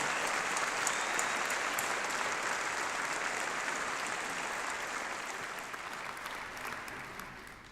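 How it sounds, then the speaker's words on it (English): Graduation ceremony audience at UCLan applauding the staff: dense, steady clapping from a large crowd filling the hall, holding strong throughout and tapering slightly toward the end. "applaud them in thanks."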